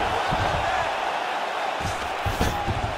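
Arena crowd in UFC 5 during a Muhammad Ali vs Fedor bout, a broad roar of cheering and whoops with a few sharper swells, steady and moderately loud, with a commentator's voice over it.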